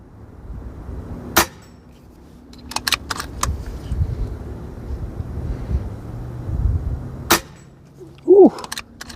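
A RAW HM1000 Micro Hunter air rifle loaded with JSV slugs fires in sharp, isolated cracks, one strong shot followed later by a second, with faint clicks and handling noise in between and no speech.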